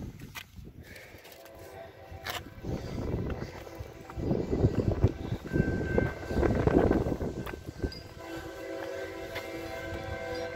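A train approaching a small Indiana town, a low rumble building steadily from the distance and swelling over several seconds, with faint horn tones and some nearby footsteps.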